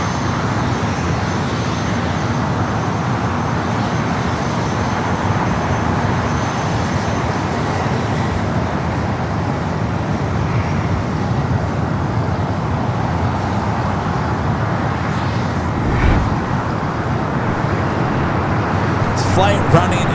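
A French Bee Airbus A350-900 arriving from Paris Orly gives a steady, broad jet roar with distant traffic hum underneath, and it stays level throughout.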